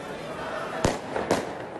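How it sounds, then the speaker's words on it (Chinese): Two sharp firecracker bangs go off about half a second apart, thrown at soldiers during street clashes between protesters and the military outside a presidential palace, over a constant murmur of crowd noise. "期间有人向军方投掷鞭炮"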